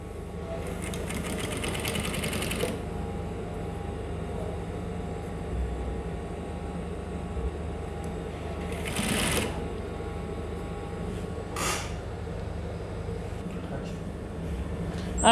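A sewing machine stitches a bustier panel in quick rapid bursts, close and steady at first, then a few short later runs amid quieter handling sounds.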